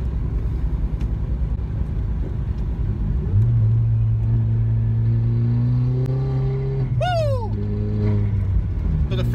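A first-generation Audi TT Quattro with 225 horsepower accelerates hard, its engine note rising steadily in pitch through a long pull, heard from inside over a constant road rumble.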